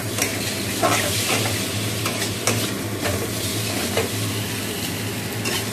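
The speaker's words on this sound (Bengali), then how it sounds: "তো মাছের ঝোলের আলুটা কষে নিচ্ছি আগে, সামান্য পেঁয়াজ ফোড়ন দিয়ে করছি এটা" Potato pieces fry loudly in oil with an onion tempering for fish curry, a close, constant sizzle broken by repeated scrapes and taps of a spatula stirring the pan.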